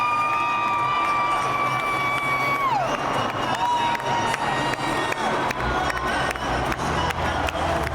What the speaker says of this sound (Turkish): Avustralyalılar da alkışlıyor.